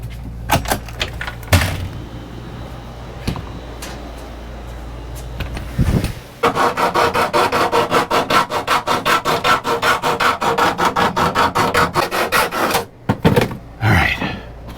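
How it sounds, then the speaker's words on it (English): A hand file rasps steadily in a fast, even rhythm to enlarge a mounting hole during a weBoost install in a Winnebago EKKO RV. Scattered knocks and handling come first, then close, repetitive strokes continue for several seconds. "I gotta get a file or something and make some more space."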